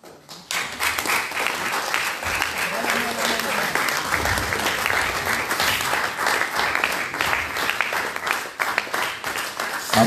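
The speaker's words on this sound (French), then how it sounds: "Applaudissons fort" A church audience gives loud, sustained applause for an honoured reverend receiving a title, dense clapping filling nearly the whole stretch, with voices mixed in beneath it.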